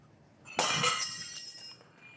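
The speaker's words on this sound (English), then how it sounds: "Did you break the glass?" A drinking glass shatters in one sudden, sharp crash, with bright tinkling fragments ringing and settling for about a second afterward in an otherwise quiet room.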